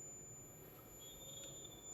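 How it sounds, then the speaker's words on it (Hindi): A digital multimeter's continuity beep while probing the network coils on a mobile phone board: a thin, steady electronic tone that starts midway and holds, fairly faint over a quiet room hiss. "ये भी आपस में बीप करती है, दिखा दूँ मैं आपको"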